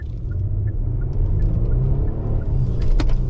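A 2019 Kia K900 all-wheel-drive luxury sedan pulls away from a standstill, a low steady engine and road rumble building gently from inside the cabin, with faint clicks near the end.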